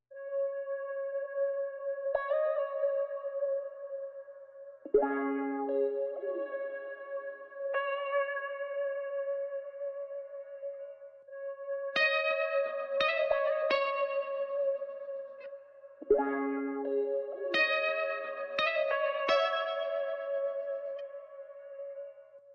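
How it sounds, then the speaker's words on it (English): Layered ambient guitars ring out with sustained, echoing chords, shimmering delay and reverb washing over each other in a steady, spacious wall of sound. "this is what all the guitars sound like together"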